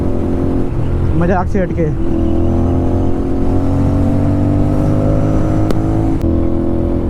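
An Aprilia RS 457 motorcycle fitted with an SC Project exhaust drones loudly and steadily, with a short rising rev burst early on. Someone talks over the engine throughout.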